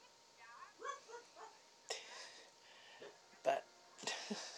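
A dog barks a few times from another room downstairs, the short sharp barks fairly distant and faint, with someone talking over them.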